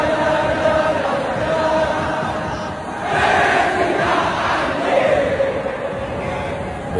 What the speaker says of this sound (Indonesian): sorakan yang menggema sebelum stadion terisi penuh